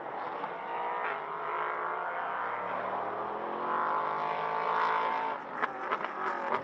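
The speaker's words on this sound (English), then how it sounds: "sound of the cars through turn 13 and 14 is spectacular" Race cars, glowing brake discs at night, power through turns 13 and 14 at Aragon beside a stone wall, a continuous loud engine roar with rising and falling pitch as they brake, downshift and accelerate away.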